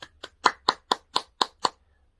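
Eight crisp, evenly spaced claps ring out in a steady beat across a church Bible lecture room, then stop into silence. They sound close and isolated, more like a small group or one person than a large crowd.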